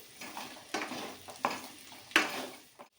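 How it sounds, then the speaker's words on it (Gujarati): A spatula stirs crushed peanuts and potatoes in a pan for sabudana khichdi, giving several distinct scraping strokes at an uneven pace over a soft sizzle. "હવે આપણે આ સિંગદાણાનો ભૂકો નાખશું। એને આપણે 2 મિનિટ હલાવશું"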